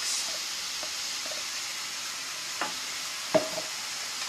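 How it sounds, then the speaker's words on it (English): Tinned tomatoes tipped into a pan of frying onion, chilli and aubergine for an aubergine dip, giving a steady broad sizzle and hiss with a few soft knocks and one sharper clatter near the end. "I'm just going to add half of these tomatoes into my mix."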